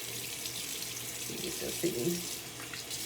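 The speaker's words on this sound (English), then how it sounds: "And you want to run it under some cold water." Cold water runs from a bathroom tap in a steady splashing stream, moderately close, while a person talks briefly over it.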